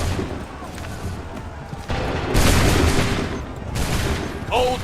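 Muskets fire in a ragged volley during a battle in Assassin's Creed 3 Remastered on PC, a loud, close burst of overlapping shots that rolls on for a couple of seconds, with shouted commands nearby.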